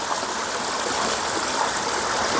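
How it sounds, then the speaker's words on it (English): Stream water flows steadily outdoors where a dry bag is being tested for waterproofing. A continuous, full rushing wash with no pauses, fairly close and even in level throughout. "the water is flowing"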